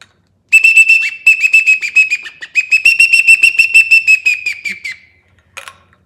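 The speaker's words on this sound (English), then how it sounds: "I whistle on it for divers, like big flocks of bluebills" Rapid trilling duck call whistle for diving ducks such as bluebills, bursting in a fast, pulsing rhythm, close and loud, repeated in several runs with a short pause and a final brief chirp.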